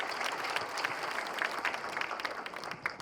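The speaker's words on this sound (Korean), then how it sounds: "오늘 발표하신 분들에 대한 축하와 격려의 박수를" Steady applause fills a municipal government staff meeting, many hands clapping at once, moderately loud and continuous, with a dense, even texture of individual claps throughout.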